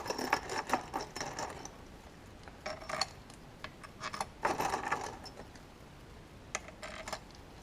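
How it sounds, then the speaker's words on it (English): Screws being driven by hand into the oil accumulator housing of a DSG7 DQ200 gearbox during a repair, heard as irregular bursts of close metallic ratcheting clicks separated by short quiet gaps, with no talking. "put the oil accumulator housing back in place. Time to put the screws back."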